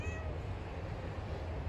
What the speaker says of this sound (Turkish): Gel güzel kedim benim.